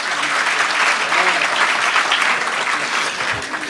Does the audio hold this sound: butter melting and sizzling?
no